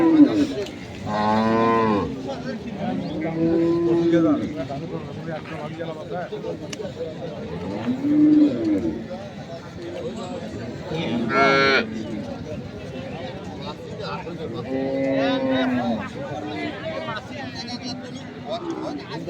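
Dairy cows low repeatedly at a rural cattle market, several drawn-out moos rising over a constant background of voices and crowd chatter.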